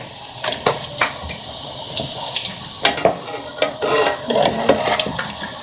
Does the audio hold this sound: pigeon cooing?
no